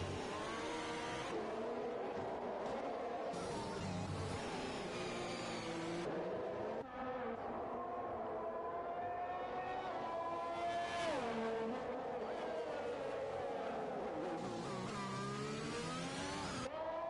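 Formula racing cars howl around the Singapore street circuit in F1 2021, several high-revving engines layered together, pitches rising and falling with gear shifts and acceleration, continuous and fairly close.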